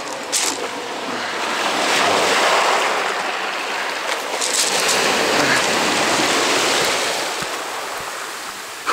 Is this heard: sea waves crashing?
yes